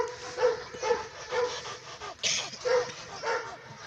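A Kohati Gultair dog, a scarred fighting breed, gives short rhythmic yelps and whimpers, close and moderately loud, with a voice speaking faintly underneath.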